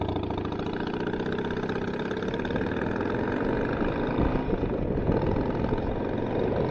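A cold motorcycle engine idles close by with an uneven, lumpy rhythm, its low throbbing pulse growing slightly rougher near the end.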